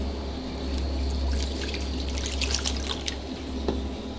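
Water poured slowly over a guinea pig during a bath, a soft steady trickle and dripping, close and fairly quiet with a low hum beneath and no talking.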